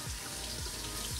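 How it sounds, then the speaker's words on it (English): Tap water runs steadily into a sink while the head of a LumiSpa facial cleansing device is rinsed beneath it, a continuous close splashing rush with no voices. "we want to rinse off the head under the water"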